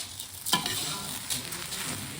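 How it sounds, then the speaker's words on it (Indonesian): Rice with turmeric is stir-fried in a pan until slightly dry, giving a close, continuous sizzle with a sharp scraping stroke of the spatula near the start and softer stirring after. "Dioseng sampai berasnya agak kering sedikit."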